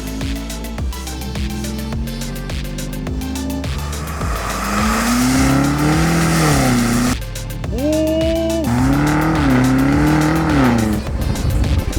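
A Range Rover Sport SV accelerates hard, its engine loud and close, climbing through several gears with clear shift breaks and a steady roar, no talk.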